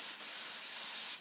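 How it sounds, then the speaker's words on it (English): A short burst of Ballistol oil sprayed from a can onto a paper towel, one steady close hiss lasting about a second. "This is a ballistol, and what I'm going to do is I'm just going to spray it on this paper towel."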